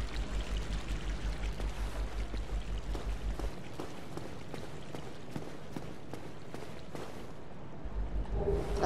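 Flowing water in the video game Dark Souls, a continuous rushing, pouring wash with scattered splashy ticks, steady and fairly close, with no talk over it.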